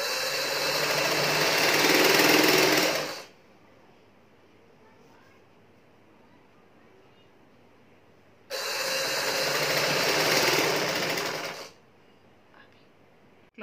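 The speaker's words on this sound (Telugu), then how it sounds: "ఒక పాదం మందంలో కుట్టేసుకుంటే మనం" An electric sewing machine stitches kurti cloth in two loud, steady bursts of rapid whirring, each about three seconds long, separated by a quiet pause.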